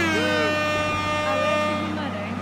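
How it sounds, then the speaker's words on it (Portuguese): A loaded Mercedes-Benz 1620 truck honks its air horn in a steady, loud blast that holds for over two seconds, with the engine droning underneath. "Tô buzinado, irmão."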